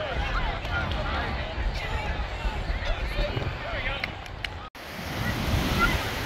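Lake water washing against the shore in downtown Chicago, a steady rushing wash with wind buffeting the microphone, continuous and fairly loud throughout.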